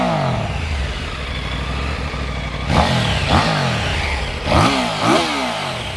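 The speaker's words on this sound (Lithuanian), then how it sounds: "Variklis gan tylus, duslintuvas originalus" A Triumph Tiger 900 GT Pro's three-cylinder engine with its original muffler idles close by, then is revved in four sharp throttle blips, each rising and falling back to a steady idle.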